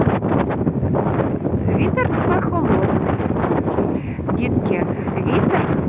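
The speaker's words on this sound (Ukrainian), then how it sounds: "Зараз вітер холодний, тому що зима і вітер холодний." Steady cold winter wind rushes and buffets the microphone throughout, a constant roaring blow with a few faint chirps rising above it.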